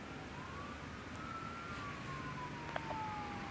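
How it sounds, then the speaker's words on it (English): An ambulance siren wails in the distance near a cemetery, a faint, slow rising and falling tone over steady outdoor background noise, with a brief click near the end. "And this is ambulance siren."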